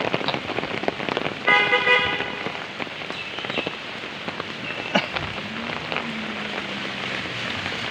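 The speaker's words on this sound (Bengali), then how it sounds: "দেখেন এই যে বৃষ্টি, প্রচণ্ড বৃষ্টি নামছে, দেখেন প্রচণ্ড বৃষ্টি।" Heavy rain pours down in a dense, constant hiss, with a short horn toot near the start and faint traffic in the background.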